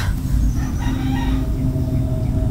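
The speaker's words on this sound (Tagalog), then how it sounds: "Gina, yung mga manok!" A rooster crows close by over a dense background of clucking chickens, the calls overlapping continuously.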